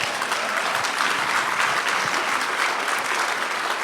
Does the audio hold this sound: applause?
yes